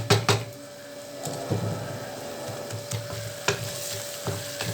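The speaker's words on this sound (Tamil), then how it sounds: "இதே நல்லா நம்ம கொஞ்சம் நேரம் கிளறி கொடுக்கலாம். நல்லா ஆயிலே வேகட்டும் கொஞ்சம் நேரம்." Chilli powder and turmeric fry in oil for a wheat rava dish, a low continuous sizzle with intermittent spoon knocks and scraping as the pan is stirred, fairly quiet and without speech.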